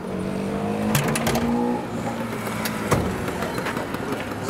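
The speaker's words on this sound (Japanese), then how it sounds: "エンジンかけていただけたら" A classic car engine at an outdoor classic car festival in a castle town is started and runs with a steady rumble. Voices and crowd noise sit underneath, and a sharp bang or clunk stands out near the middle.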